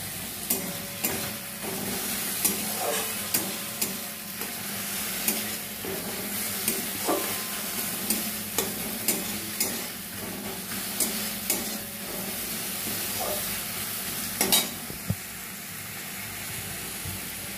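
Chopped onion and crushed tomato frying with ground spices and chilli powder, a continuous sizzle punctuated by regular scraping and tapping strokes of a spatula against the pan.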